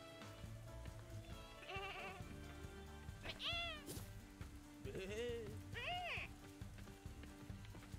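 Sheep in the video game Lumberhill bleat in a few distinct wavering calls over game music and effects, with someone talking throughout.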